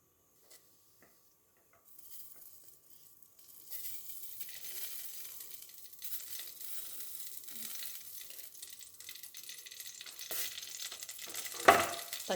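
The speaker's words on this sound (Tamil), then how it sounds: "அடுத்தது பச்சை மிளகாய் போட்டு லைட்டாக எண்ணெய் ஊற்றி" Oil sizzles and crackles steadily as green chillies sauté in a pan, building from quiet to a louder, busier hiss with a sharp pop near the end as a chilli bursts.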